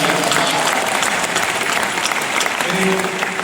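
Audience at a poetry recital in Raipur breaks into sustained, dense applause, loud and steady for the whole stretch, with a voice faintly present beneath it.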